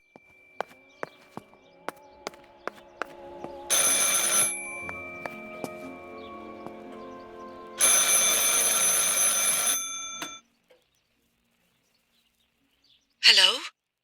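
An old telephone rings in the game Martha is Dead: two long, bright bell rings, each lasting a couple of seconds, separated by a pause. A ticking clock sounds before them, and a brief sharp tone follows after a silence.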